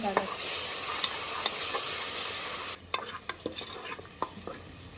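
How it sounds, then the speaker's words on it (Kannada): Ground green masala frying in oil in a pan, stirred steadily with a spoon; a continuous close sizzle with scraping stir strokes, dropping slightly quieter midway as stirring continues. "ಚೆನ್ನಾಗಿ ಅದು ಆಯಿಲ್ ಬಿಡೋ ತನಕ ಮಿಕ್ಸ್ ಮಾಡಿ ಹುರ್ಕೋಬೇಕು"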